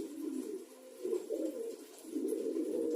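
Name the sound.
pigeons cooing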